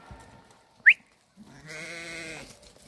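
A sheep bleats once in a long, wavering call from a flock of selected sheep, preceded by a sharp whistle and a few soft shuffling sounds.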